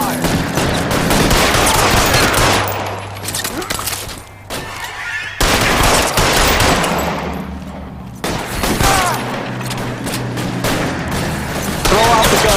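Gunfire in the video game LA Noire: dense bursts of shots and crackling fusillades fill most of the stretch, with brief lulls and deep booms, loud and close, with voices talking over the shooting.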